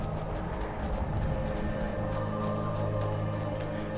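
Horse hooves clip-clopping in the Skyrim video game, a steady walking rhythm of hoof falls over a constant ambient game soundscape, no voices.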